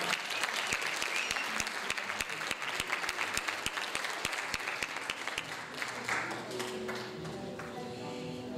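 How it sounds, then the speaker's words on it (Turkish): A concert audience at a community choir performance claps loudly and steadily in a hall, with dense applause and a few sharp claps, then it thins out as a musical tone comes in near the end. "Bu gece alkışlar hiç bitmez."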